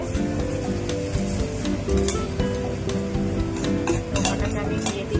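Bengali-style dhoka lentil cakes fry in refined oil, a soft continuous sizzle with light utensil clinks and stirring, over a steady low tonal hum.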